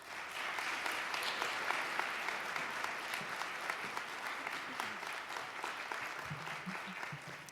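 Sustained audience applause welcoming Paige Holland, the First Lady, onstage at a Ladies Night event at UVU, a steady wash of clapping from a sizable crowd throughout with no speech.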